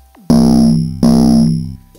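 A loud, heavily distorted bass synth patch made in Logic Pro X plays two sustained notes, each about three-quarters of a second long, with buzzy, grinding harmonics that fade slightly before cutting off.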